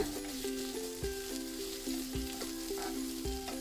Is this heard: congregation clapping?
no